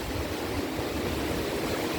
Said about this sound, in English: I love to hear the ocean.